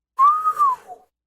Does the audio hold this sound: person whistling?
yes